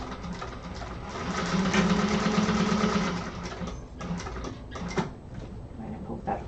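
A sewing machine stitches through cotton lining fabric with a loud, fast steady whir, then slows and stops into softer clicks and handling noises near the end.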